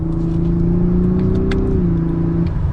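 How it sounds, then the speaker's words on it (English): A 2022 Lexus LS 500 twin-turbo engine pulls hard under acceleration, a loud, steady mid-pitched drone that holds and rises slightly before easing, close up with no talking. "But it's impressive with that twin turbo engine."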